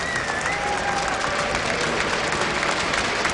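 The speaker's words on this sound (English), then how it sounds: "Give him a big round of applause, everyone." A live esports crowd at the WCS Season 2 Finals StarCraft event applauds a match winner, dense sustained clapping filling the whole stretch with faint cheering underneath.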